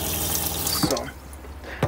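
A camper van faucet runs briefly after its water pump is switched on, a close rushing hiss that sputters and thins out, with a short gurgle partway through.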